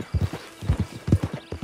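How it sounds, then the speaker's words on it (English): Horse hooves clip-clop in a steady walking rhythm, close and clear, with no other sounds, from the open-world western game Red Dead Redemption 2. "Get on the horse when you're ready."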